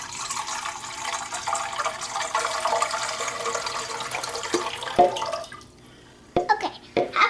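Warm water pours into a bowl for bread dough, a steady splashing trickle for several seconds that stops, followed by a few clunks and small movements.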